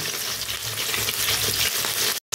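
Katla fish pieces marinated with ginger, garlic and salt frying gently in a pan over low heat, giving a loud, continuous close sizzle that cuts off abruptly near the end.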